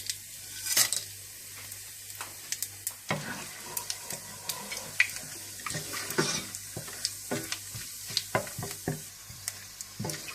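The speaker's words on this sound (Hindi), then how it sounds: "आप इसी तेल में सारे खड़े मसाले डाल दें और इन मसालों को थोड़ा सा भून लें" Whole spices frying in the leftover oil from fried onions for chicken white korma, with a steady close sizzle broken by repeated sharp scrapes and clinks of a spoon stirring, no talking.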